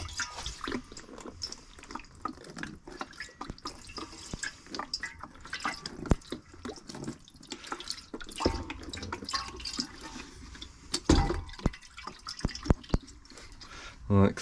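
Rust converter liquid glugged from a container onto a Toyota Supra MK4 fuel tank, giving dripping, splashing pours in uneven bursts, close by, with a voice talking over parts of it.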